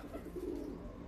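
Roller pigeons coo softly up close, giving a low, steady, rolling call with no talk over it.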